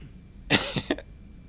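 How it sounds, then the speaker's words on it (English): A Salarian character in Mass Effect 2 gives a short, breathy cough in two or three quick bursts, close and clear over a faint background hum. "I love this little cough."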